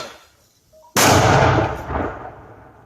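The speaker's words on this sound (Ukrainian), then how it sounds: "прикордонники-мінометники б'ють по піхоті ворога, навіть не зважаючи на близький приліт" A single sharp, heavy mortar blast bursts in after a quiet moment, its rumble lingering and slowly fading through the rest of the clip.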